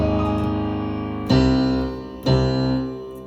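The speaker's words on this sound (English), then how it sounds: "you see the pedal filled that space up." Piano played with the sustain pedal down, a held chord ringing on and two more chords struck over it, the notes blending with no gaps between them.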